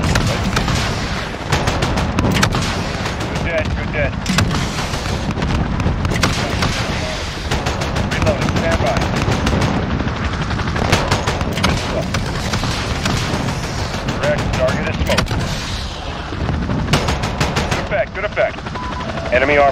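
Rapid, sustained bursts of 30mm cannon fire from an attack helicopter in a military video game, dense and loud throughout with booming impacts and radio chatter mixed in.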